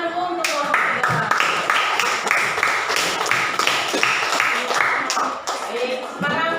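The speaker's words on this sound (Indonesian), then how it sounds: "Silakan tepuk tangan dulu untuk kelompok 3." Students in a classroom clap for a presenting group, dense steady applause throughout, fairly close and loud, with some voices mixed in.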